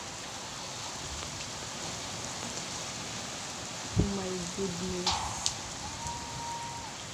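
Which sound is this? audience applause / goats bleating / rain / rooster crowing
rain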